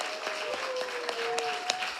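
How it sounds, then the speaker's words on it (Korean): A church congregation applauds together in a steady burst of clapping that fills the room during a Sunday service, with a faint tone sounding beneath it. "박수로 환영합니다"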